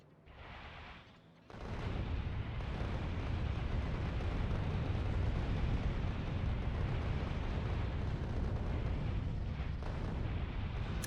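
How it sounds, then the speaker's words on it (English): Dense, continuous rumbling blasts from explosions in Factorio, a video game, a loud roaring wash that builds after a brief quieter start and carries on without talk. "Just hear a lot of explosions."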